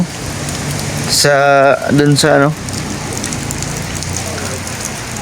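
Heavy rain falls in Baguio, a steady broadband hiss running the whole time, with people talking briefly over it near the start.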